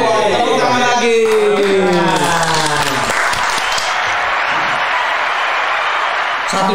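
Audience applause at a sales awards podcast event: a voice rises with a sliding cheer at first, then broad, sustained clapping takes over and carries loudly through to the end.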